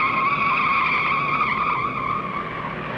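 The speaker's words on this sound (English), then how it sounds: "Look out, two cars spinning." Tires squeal in a sustained, loud screech as two stock cars spin and skid during the 1961 Daytona 500 NASCAR race, the shrill wail holding steady for a few seconds.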